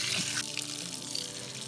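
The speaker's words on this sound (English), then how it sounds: "we have a hose, and we're just going to try to wash everything out of here" Hose water rinsing out the body cavity of a field-dressed deer, a close, steady gushing splash that runs without pause through the short clip.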